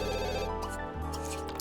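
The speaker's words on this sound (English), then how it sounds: "phone call in the new house" A telephone ringing inside a new house in the video game The Sims 2, an electronic ringtone of rapid repeated tones that is loud and continuous, layered over a steady background music bed.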